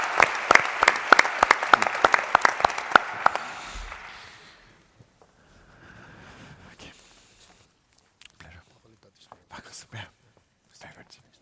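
A conference audience at EU Space Week 2023 claps after a panel session, a few seconds of loud clapping that fades out, followed by quiet room noise and scattered soft sounds.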